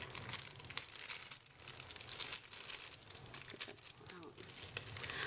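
A packet of henna powder is torn open by hand, giving close, rapid crinkling and tearing of the packaging, quiet and continuous for several seconds.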